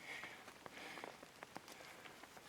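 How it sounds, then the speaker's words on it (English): Steady rain falling outdoors on a hillside homestead near a flowing spring, with a constant hiss and scattered sharper drops pattering on nearby surfaces throughout, no voices. "This rain is adding to it."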